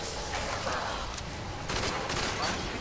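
Rapid gunfire in Black Ops Call of the Dead as zombies are shot, dense continuous bursts that stay loud and crowded, with clustered shots surging through the short stretch.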